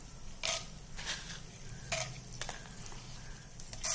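Mustard seeds, chana dal and urad dal frying in hot oil with hing and turmeric for mango rice, a low steady sizzle broken by a few brief bright crackling pops and faint stirring, close and fairly quiet.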